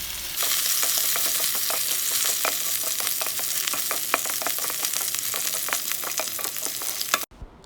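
Ginger, garlic, curry leaves and green chilies sauté in hot oil in a pan, a steady dense sizzle with frequent close scraping strokes of the spatula, then cutting off abruptly near the end.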